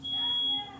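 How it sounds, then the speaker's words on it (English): Smoke alarm giving one steady high-pitched electronic tone lasting just over half a second, faint and somewhat distant, with a voice heard under it. "Somebody set the smoke alarm off."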